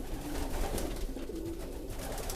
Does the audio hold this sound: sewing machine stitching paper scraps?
no